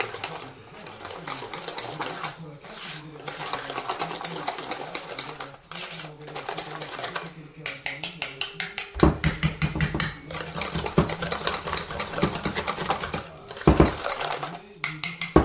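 A whisk beats mascarpone in a bowl for tiramisu, rapid rhythmic clattering taps of the wire against the bowl in steady bursts, close and fairly loud, with brief pauses between runs.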